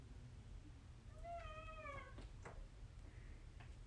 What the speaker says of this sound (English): This is my cat Astro, and he loves to do yoga with me